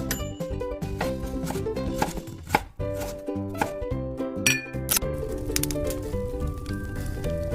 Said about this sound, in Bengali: তাই এবারে আমি লেজের পিসটা এইভাবে আমি ছুরি দিয়ে দাগ করে নিচ্ছি।